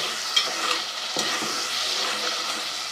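Spiced masala for daal mash, made with yogurt, sizzles and fries in a pan while it is stirred. The frying is steady and close, with scraping stirs throughout and no talking.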